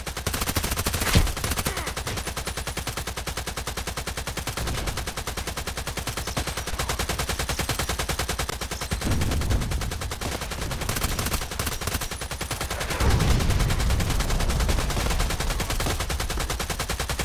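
Sustained automatic gunfire in the shooter Contract Wars rattles on without pause for the whole stretch, loud, dense and close, with a few heavier impacts standing out.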